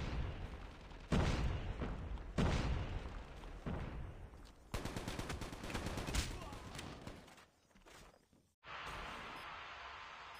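A frag grenade blast and gunfire from the mobile shooter Call of Duty Mobile: repeated loud bursts of rapid automatic shots in clusters, cutting briefly to near silence before a dense steady roar resumes.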